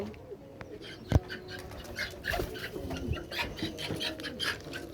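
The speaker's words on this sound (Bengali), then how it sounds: "পায়রাগুলো চলে এসে খাবে বলে" Pigeons on a rooftop coo softly at mid distance, a loose series of low calls mixed with a sharp knock and scattered background clatter.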